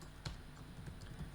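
Keystrokes on a computer keyboard while writing code, a short run of quiet, uneven clicks with one stronger tap near the start, no voices.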